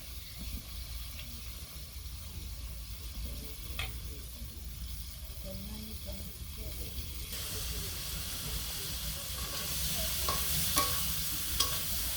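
Eggplant frying in a pan gives a steady, moderately loud sizzle and hiss with occasional stirring clatter, growing a little louder toward the end; faint voices sit underneath.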